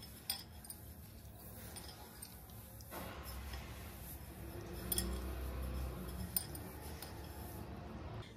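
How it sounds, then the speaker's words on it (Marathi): Flax seeds, ajwain and sesame seeds are stirred together in a bowl for an after-meal digestive mix, giving light clinks and scraping taps of a spoon against the bowl over a steady low background. "आता हे सगळं आपण मिक्स करूया।"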